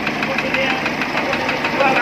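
A Hyundai Tucson diesel engine idles with a steady, loud knocking rumble, close up and continuous.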